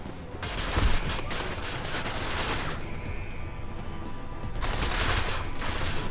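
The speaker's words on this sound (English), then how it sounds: "Who's shooting us? Someone from upstairs, perhaps?" Sustained gunfire in the video game Deus Ex: Mankind Divided, with dense rapid shots and one heavier burst, easing briefly and then building again, loud and continuous.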